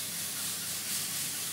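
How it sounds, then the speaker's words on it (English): Steady broadband hiss of cooking spray into a pan, close and even, lasting the whole moment without pause. "I'm going to just throw some spray in here"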